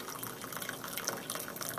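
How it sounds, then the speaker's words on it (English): Coffee pours steadily from a French press into a cup, a continuous close trickling splash of liquid filling the cup, with no speech. "we're going to pour it right out, and there will be sediment in the bottom of this thing"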